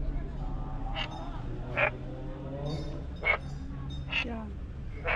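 Frogs croak at the Wat Pha Sorn Kaew temple in Phetchabun, Thailand, giving a few short, separate calls spaced a second or so apart over a low steady rumble, with people talking nearby.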